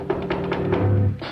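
A few quick, soft raps on a door, evenly spaced and close by, heard in a quiet room over a low steady hum.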